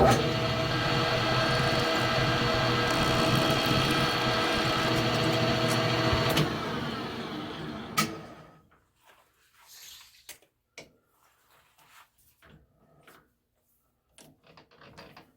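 Metal lathe facing 1/8 inch off a workpiece: a steady, loud machine whine and cutting hum that runs for about six seconds, winds down and stops. Faint clicks and small handling noises follow in near silence.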